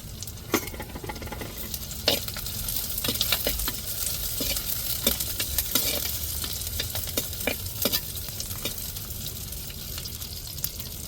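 Sliced big onions sizzle in hot oil in a pan while being stirred, with a constant crackling hiss and intermittent scraping strokes close by, no talking.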